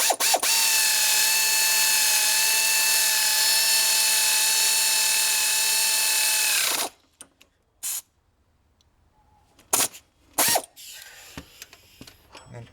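A power tool drives a bolt home on the alternator mount of a 2001 Chevy 2500HD pickup, a loud steady whine holding for several seconds before cutting off, followed by a few short clanks and rattles of metal parts.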